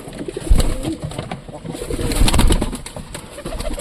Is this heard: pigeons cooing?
yes